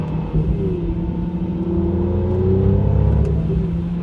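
A Mercedes-Benz C43 AMG engine pulls steadily on throttle around a race track, a loud, continuous rumble with rising revs building through the whole stretch, no talk over it.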